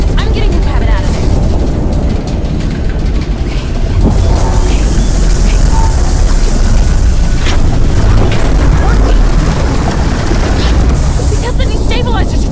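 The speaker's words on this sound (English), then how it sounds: "Kinesium explosion imminent." A Kinesium explosion in the video game I Expect You to Die 3, a loud, continuous deep rumbling roar that swells after a few seconds and holds steady, with a synthetic voice speaking over it.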